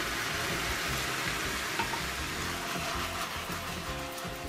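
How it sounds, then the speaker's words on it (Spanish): Beef with a splash of wine hisses and sizzles in a frying pan, a steady close frying noise with faint stirring under it and no voices. "Pues removemos todo bien"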